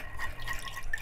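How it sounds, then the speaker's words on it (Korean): Cooked red bean broth is poured off, a steady close trickle and splash of liquid with dripping sounds. "이 팥 국물은 따라놔야 되는구나"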